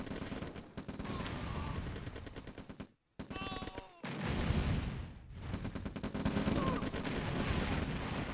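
Tanks and rockets fire in the real-time strategy game OpenRA Red Alert, with dense rapid gunfire and blasts layered over game music, dropping out briefly in the middle before resuming.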